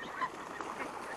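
Ducks near a rice field, a short burst of nasal quacking honks close by over a steady outdoor background.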